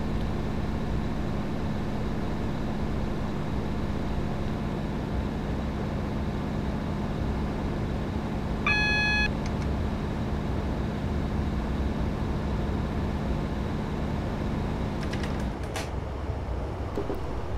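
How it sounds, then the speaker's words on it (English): A Class 156 diesel multiple unit in Train Simulator 2015 hums steadily with a low engine drone, a brief tonal chime midway, then the engine note shifts as power changes near the end, with no talking. "I can also see that the next signal is now clear, so I'm now increasing the power further"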